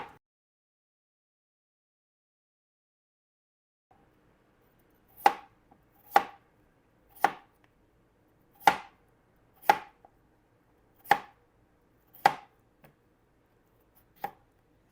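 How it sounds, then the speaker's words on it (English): Peeled potatoes being sliced for scalloped potatoes, with about eight crisp, evenly spaced knife strikes on a cutting board roughly once a second after a quiet opening, each sharp and close, with no talk. "My potatoes are already peeled, and now I just have to slice them."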